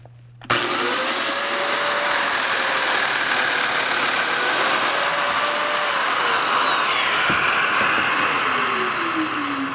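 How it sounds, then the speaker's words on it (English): A domino joiner cuts mortises into the wooden sun-ray piece of a garden gate: a loud, steady motor whine that starts abruptly and holds for about nine seconds, with no talking. "I can use this same cutter and the same setup to cut mortises for dominoes in both ends of this center extended sun ray"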